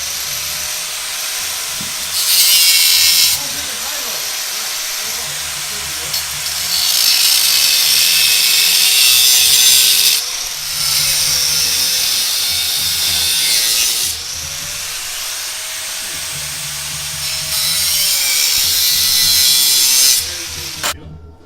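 A power tool, likely a saw or grinder, cuts through BMW E34 coil springs in a garage, with a loud whining motor that swells into harsh grinding passes several times, pitch sagging under load between cuts, close and dominant.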